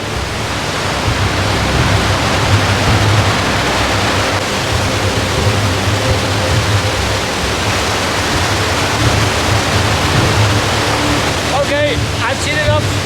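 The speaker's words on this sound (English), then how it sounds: "Look at the roaring water." A roaring waterfall on a glacier hike in Norway gives a loud, steady rush of falling water throughout, with a brief voice near the end.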